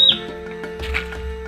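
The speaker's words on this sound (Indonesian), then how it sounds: "Suara elang." A brief, sharp call of an eagle in a mountain forest rings out near the start, followed by faint rustling background noise.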